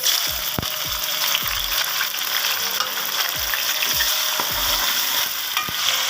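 Tomatoes frying with browned onions in a hot pan for aloo anda curry, a constant loud sizzle with a spoon scraping and knocking against the pan in a steady stirring rhythm.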